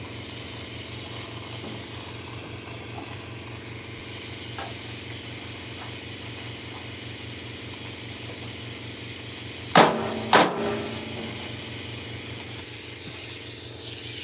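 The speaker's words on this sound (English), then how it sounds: "Let me get my hammer." A hammer strikes twice, sharp and close, against a Detroit Diesel DD13 truck engine while bolts near the knock sensor are being worked on, amid a steady mechanical hum and hiss with no talking.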